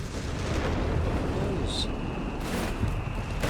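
Artillery ambush shells slam down in Company of Heroes 3 as a rolling, continuous rumble of blasts and crackle, with a couple of sharper bursts cutting through the dense din.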